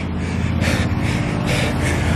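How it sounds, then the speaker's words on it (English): Hard, heavy breathing after repeated physical exertion outdoors, rhythmic gasping breaths close to the mic, about three strong inhales and exhales over steady background noise. "I'm breathing hard."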